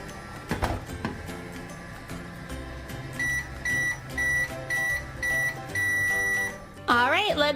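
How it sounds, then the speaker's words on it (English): A toy microwave from a children's Paw Patrol playset gives a run of regular electronic beeps, about six evenly spaced tones, close and fairly loud, ending in a warbling sweep, with faint background noise. "We'll put him in our microwave."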